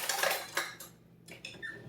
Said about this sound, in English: the egg and the milk. Just mix that up a little bit